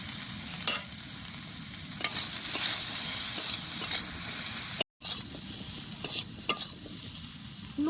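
Taro and potatoes stir-frying in a pan with spices, a steady close sizzle with scraping stirs and occasional sharp clinks of the spoon against the pan, broken by one brief pause.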